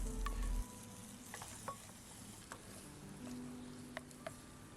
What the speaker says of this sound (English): in go the meats and stirred around for a couple of minutes longer